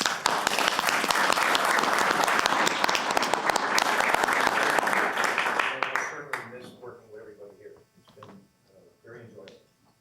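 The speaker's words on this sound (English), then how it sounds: "So round of applause for him." A city council meeting audience applauds loudly with dense, sustained clapping for about six seconds before it thins into a few scattered claps and then fades out.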